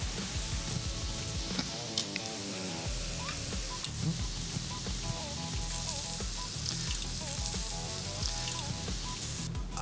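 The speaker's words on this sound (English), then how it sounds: "I've got some shiitake, some oysters, and some button mushrooms cooking in that beef fat" Shiitake, oyster and button mushrooms fry in beef fat on a flat-top griddle, giving a steady, close, dense sizzle that runs unbroken, with a few clinks and stirring noises over it.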